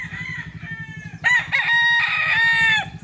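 A Golden Grey gamefowl rooster crows loudly and close by, a long drawn-out call with clucking around it, and no voices.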